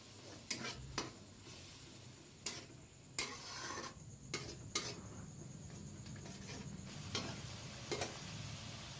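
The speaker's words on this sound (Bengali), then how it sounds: "এবার মশলাকে ভালো করে আমি কষিয়ে নেব।" Spice paste with ground coriander and a little water is stirred in a pan for a Bengali rohu fish curry with potatoes: sparse, irregular spatula clinks and scrapes over a faint, steady sizzle.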